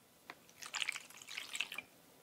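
Water poured into a bowl to make arepa dough, a soft splashing and trickling lasting just over a second, fairly faint and with no talk.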